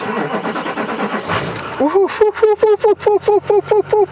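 A Duramax diesel pickup truck that has sat unused for a while turns over and fires up, the rhythmic cranking giving way to a loud, close engine with pulsing revs. People talk briefly at the start.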